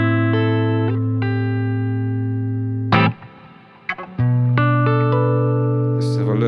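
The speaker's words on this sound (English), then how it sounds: "I'll flick on the reverb, and you'll see how the guitar is really wet with the reverb" An electric guitar played through a BOSS GT-1000 modeller with hall reverb rings out in sustained chords, then a short pause with muted scratching before the wet, reverberant chords return.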